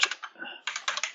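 Quick clicks of a computer keyboard come in short bursts with a brief pause, close and clear while a file name is typed in.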